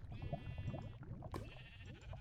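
A sheep in Minecraft lets out a couple of short, wavering bleats in quick succession, fairly close and clear against a quiet background.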